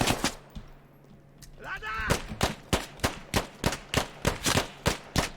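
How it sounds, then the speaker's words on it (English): Gunfire in the video game Squad: a rapid run of sharp, loud shots in a steady rhythm, roughly a dozen bursts in a few seconds, preceded by a couple of isolated shots. "Oh, he's shooting me through the wall."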